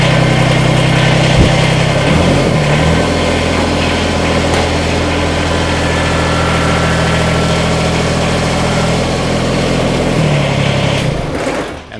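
A Kubota BX compact tractor in four-wheel drive crawls slowly up onto 4x4 blocks, its engine running loud and steady near the listener with a slight rise in effort, no talk.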